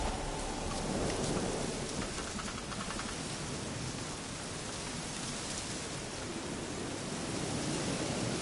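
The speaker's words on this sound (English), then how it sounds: "Looks like rain." Steady rain pours throughout with broad hissing noise and low rumbling undertones that suggest distant thunder, constant and fairly loud with no voices.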